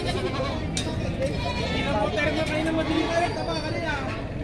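Goats bleating among a crowd at a livestock market in Padre Garcia, with steady babble of people talking throughout and animal calls rising intermittently over the hubbub.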